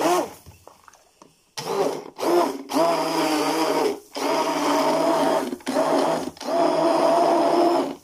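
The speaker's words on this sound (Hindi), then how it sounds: "तो ये देखें, मैं स्टिक ब्लेंडर के साथ बना रही हूं।" A stick blender whirs loudly while blending a milkshake, running in several long bursts separated by short pauses, close and dominant throughout.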